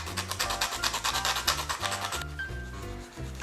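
Close, rapid back-and-forth rasping as the rough edges of a leather cover for a Daiso skillet are sanded down, a dense rhythmic rubbing that slows briefly near the end.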